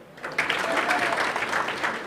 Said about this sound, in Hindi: इसकी आवाज़ की ताली मारो